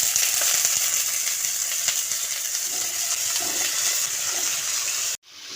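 Potatoes fresh from water hit hot oil with panch phoron for aloo chorchori, giving a loud, continuous sizzling hiss that cuts off abruptly near the end.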